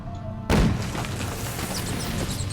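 A Dragon's Dream bomb goes off in The Witcher 3, thrown to blow up a monster nest: one loud, close boom after a short quiet lead-in, then a rumbling roar that fills the rest of the moment.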